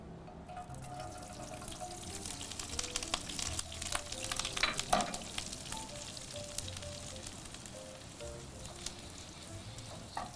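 Garlic slices fry in a pan, a close, steady crackling sizzle with scattered pops and a brief louder stir partway through, no voices.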